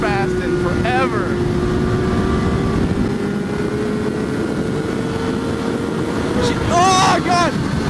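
A fast motorcycle howls past at around 150 mph with a rising then falling engine whine, heard over steady loud wind roar from a riding helmet. A second high-pitched pass comes near the end.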